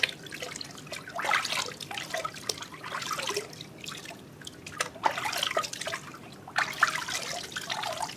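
Water trickling and splashing as shampoo is rinsed off a newborn baby during a bath, with intermittent pours and drips at close range and no talking.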